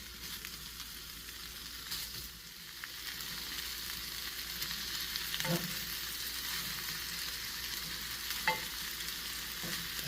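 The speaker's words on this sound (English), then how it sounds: "you want to fry them up a little bit" Gyro meat frying in olive oil in a hot pan, a steady quiet sizzle and crackle throughout with a few soft stirring scrapes, no voices.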